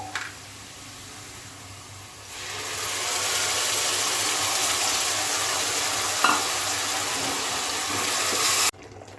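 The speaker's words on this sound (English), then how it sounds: "So these onions are cooked now. Now I am adding tomato puree," Tomato puree hitting frying onions in a pan, a sudden loud sizzle swelling into steady hissing frying with stirring, close and continuous, a brief clatter near the end.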